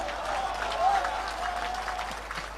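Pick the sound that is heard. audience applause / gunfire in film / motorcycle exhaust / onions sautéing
audience applause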